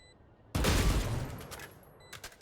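A sudden loud crunching burst, then a few scattered crackles trailing off, like brittle ice breaking underfoot: frost cracking as a character walks over it in a video game.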